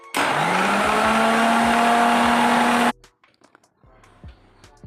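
A kitchen mixer grinder blending a jasmine flower face pack runs as a loud steady whir for about three seconds with a rising motor tone, then stops abruptly, followed by faint clinks and handling sounds.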